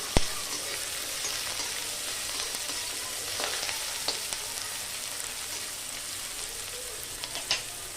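Onions and curry leaves frying in hot oil for a spicy brinjal bharta, a steady close hiss and crackle with scattered sharp pops and occasional utensil clicks.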